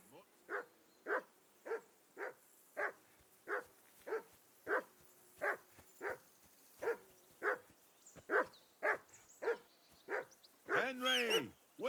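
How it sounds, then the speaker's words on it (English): A dog in Kingdom Come: Deliverance barks in a steady, evenly spaced series of about twenty sharp barks, close and clear, ending in a burst of higher yelps and whines. "Whistle at that mutt of yours to stop barking."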